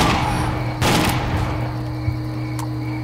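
Gunfire in the shooter game S.T.A.L.K.E.R.: Call of Pripyat, a burst of sharp shots and cracks over steady ambient drone, with a later isolated crack and no talking.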